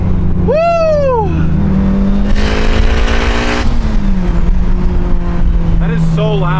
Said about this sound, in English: That is so loud. That wastegate is like piercing.